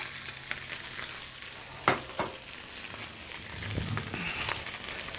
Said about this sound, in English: we just leave that just cooking that way in the pan, and it's just going to get nice and golden and crisp on the outside